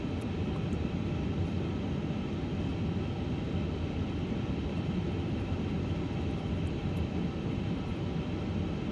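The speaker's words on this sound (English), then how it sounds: "hope you can hear me okay over the sound of the aircraft" Steady, loud engine drone of an Airbus A350 airliner taxiing in a flight simulator, a constant broadband roar that holds unchanged throughout with no voices.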